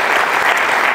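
A stand-up comedy audience in Cluj-Napoca, Romania claps in a dense, steady, loud burst of applause that fills the whole moment without a break.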